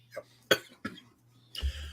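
A few short, dry coughs close to the microphone, spaced unevenly, followed by a rougher throat-clearing burst.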